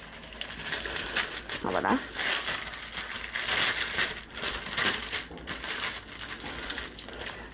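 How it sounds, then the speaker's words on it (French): Crinkling plastic packaging of a small diamond painting kit being opened, with rustling and crumpling bursts close by, and a brief spoken word. "Donc, on va ouvrir le petit paquet."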